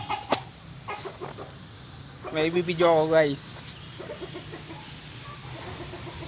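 A rooster clucks and gives a short, wavering call up close while a person talks briefly at the start, with light background noise throughout.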